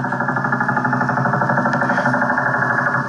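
A Soviet Woodpecker radar signal picked up on 60-meter shortwave makes a relentless rapid ticking, like a machine-gun knock, over a dense band of receiver noise, steady and loud throughout with nobody speaking.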